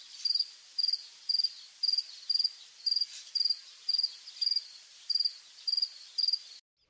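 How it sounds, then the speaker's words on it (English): A cricket chirps alone and close, giving about a dozen short, evenly spaced trills in a steady rhythm before falling silent. "Cricket."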